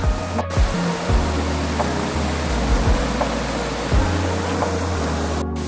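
A waterfall at a Thai swimming spot pours in a steady, broadband roar, loud and continuous throughout with no voices.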